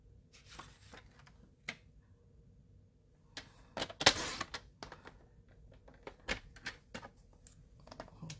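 Cardstock being trimmed for a matting layer on a paper trimmer, giving a series of close, crisp slicing and clicking strokes with brief pauses between, loudest around the middle, with no talking.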